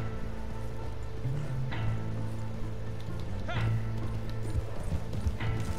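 A white horse in the Western video game Red Dead Online clip-clops along at a steady walking pace, its hooves close and clear beneath a constant game background hum.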